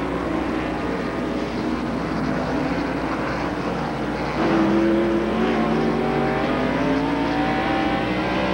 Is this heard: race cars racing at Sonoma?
yes